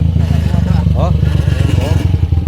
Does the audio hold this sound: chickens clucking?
no